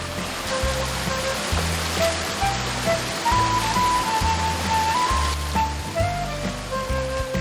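Steady rushing of a mountain stream flowing over rocks on the Sangsa Falls valley trail in Sancheong, a constant broadband wash close by, with a low rhythmic hum underneath and a faint tone.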